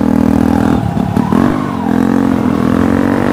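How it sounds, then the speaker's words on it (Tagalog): Motorcycle engine revving loudly and close by throughout, with a brief dip and clatter partway before the revs steady again. "May motor pala yun."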